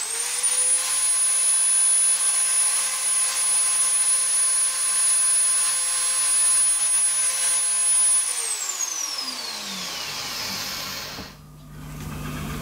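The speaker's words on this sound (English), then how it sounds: "drill a cross hole in the end of this so we can tighten the spinner up onto that stud" A small drill cuts a cross hole in the end of a model aircraft engine spinner on a machine tool, a loud steady high-pitched whine that holds for about eight seconds, then winds down and stops.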